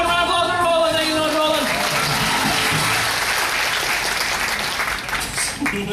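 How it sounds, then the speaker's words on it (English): Audience applause for a man named Roland aboard a Mexico cruise, a dense, loud wash of clapping from a crowd that starts with some tonal sounds and holds steady, easing slightly near the end. "Everyone round applause for Roland"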